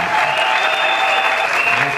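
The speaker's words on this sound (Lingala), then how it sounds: "Est-ce que vous ne pouvez pas applaudir très fort pour" A church gathering's crowd applauding loudly for a newly presented bishop, a dense, close, continuous roar of clapping with a voice faintly over it.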